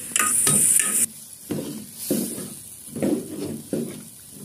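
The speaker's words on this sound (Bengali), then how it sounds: "ভালো করে ভেজে নিয়ে এবার মাছ দিয়ে দেব।" Oil crackles loudly in a pan for a fish curry with pointed gourd and bitter gourd, a bright sizzling burst giving way to repeated spoon clanks and stirring scrapes against the pan.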